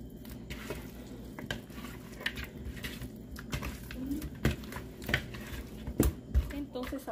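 Pork chops in molcajete-ground ranchera sauce sizzle in a pan while a utensil scrapes and stirs, with soft irregular clinks and taps over a steady low frying hiss.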